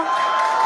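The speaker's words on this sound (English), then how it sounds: "you can hear the crowd is very excited about it" Excited crowd cheering at a SpaceX Starship launch, a dense continuous roar of voices with a steady high tone running through it, loud throughout the short burst.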